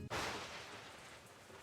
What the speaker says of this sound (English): As we reach the bottom of the hill, the first raindrops begin to fall.